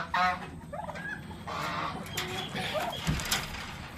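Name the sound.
turkeys on a farm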